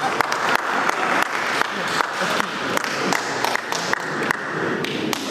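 An assembly of workers breaks into steady applause, dense clapping from a crowd with sharp individual claps standing out throughout, loud and close.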